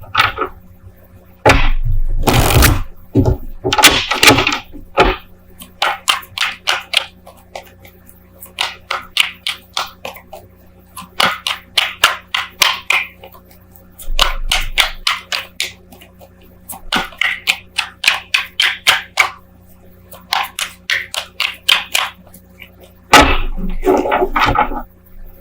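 Tarot cards being gathered up during a Taurus love tarot reading, a run of quick papery shuffles and taps in close succession, with a few louder knocks at the start and end, and no talking over it.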